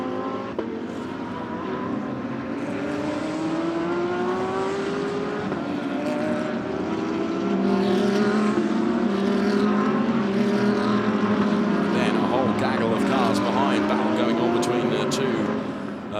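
Porsche and Audi GT race cars at the ADAC GT Masters round at Oschersleben in 2017, with a continuous loud engine roar and shifting pitch sweeps as the cars pass, under steady commentary.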